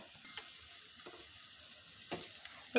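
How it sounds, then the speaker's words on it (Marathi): Sunflower seeds, pumpkin seeds and ground cashews and almonds roasting in ghee, a quiet, low sizzle with a few soft scraping stirs, faint and close, no talking. "सूर्यफुलाच्या बिया आणि आपण जे काजू बदाम मिक्सरला फिरवले होते ते टाकून परतून घ्यायचं आहे आपल्याला चांगलं"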